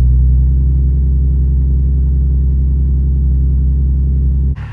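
A naturally aspirated Nissan 370Z pulls hard under acceleration, its engine a loud, steady low drone and rumble that holds for several seconds before cutting off sharply at the end.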